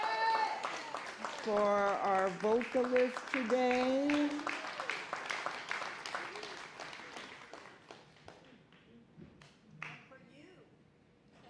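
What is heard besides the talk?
audience applause for the band and vocalist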